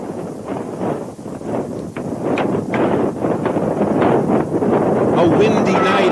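Strong wind on a night at a bicycle race in Oakland buffets the microphone in a loud, continuous roar, with faint motor noise beneath it.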